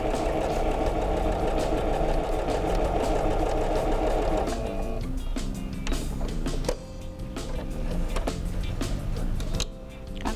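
A sewing machine runs steadily, stitching fabric along the full length of one side in a TV sewing studio. It sounds loud and continuous, then briefly pauses and restarts with uneven bursts toward the end.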